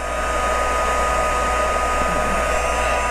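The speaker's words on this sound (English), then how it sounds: "you'll just come back in with your embossing tool, your heat gun, and you'll heat it up" Heat gun blowing hot air over embossed metallic foil for a craft technique, a steady close whooshing roar of the fan that holds level for the whole stretch with no talk.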